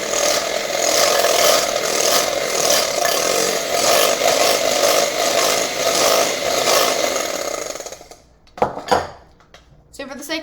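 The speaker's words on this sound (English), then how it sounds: "you can use an electric whisker, which on the box it recommends a electric whisker" An electric whisk mixes in a bowl, making a loud, steady, buzzing rattle close up for about eight seconds before it stops, followed by a few brief clatters.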